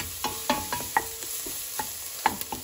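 Spices being stirred and fried in a pan for Goan steamed mussels: scattered scraping clicks of a spoon over a soft steady sizzle, close and fairly quiet, no talking.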